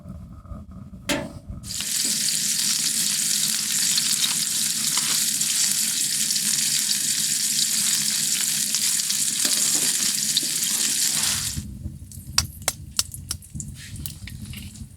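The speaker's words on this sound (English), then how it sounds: "we'll fry it some bacon, some eggs, and maybe some pork chops" Bacon and eggs frying on a wood stove in a hot tent at -20°C, opening with a few knocks before a loud, steady sizzle sets in for about nine seconds, then ending in scattered clicks and clatter.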